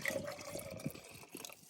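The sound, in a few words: pouring leftover red wine into pasta sauce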